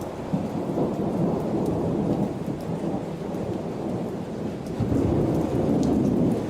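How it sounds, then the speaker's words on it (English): Thunderstorm in the storm-chasing game Outbrk: steady heavy rain hiss under a long, rolling chain of thunder rumbles that swells again near the end, loud and continuous with no talk. "Oh, that was a chain thunder."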